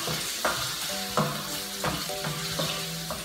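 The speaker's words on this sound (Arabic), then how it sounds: "ورميو القرعة، القرعة ديالنا تقلى." Zucchini frying in hot oil in a home kitchen, a steady close sizzle with soft stirring scrapes recurring about every second, no voices.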